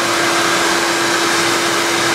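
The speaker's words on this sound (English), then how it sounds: "I think I'm gonna get the vacuum cleaner out" A vacuum cleaner runs close by with a loud, steady whine and hum that holds constant from start to finish.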